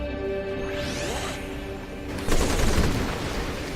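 Enemies firing acid in the sci-fi strategy game Civilization Beyond Earth, a sweeping whoosh followed by a loud crackling, splattering burst over a constant droning game backdrop.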